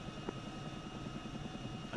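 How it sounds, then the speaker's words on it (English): A Chinook helicopter in a video game, a steady low rotor thrum and engine hum held at moderate level throughout, with no talk over it. "Chinook's loud"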